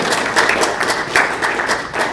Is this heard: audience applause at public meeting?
yes